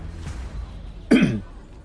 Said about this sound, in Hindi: वो अपना गला साफ करते हुए गौरव से बोला।